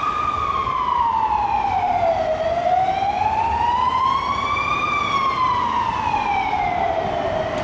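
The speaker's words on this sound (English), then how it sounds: "No shortage of sirens here in Budapest as you walk along the streets." An emergency vehicle siren rises and falls slowly and loudly over steady street traffic noise on a Budapest city street, one long sweeping cycle.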